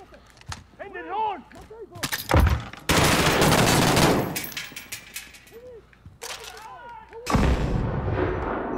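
Loud explosions and gunfire in a Call of Duty: Modern Warfare campaign battle, with several heavy blasts and sustained shooting, while a voice talks in between.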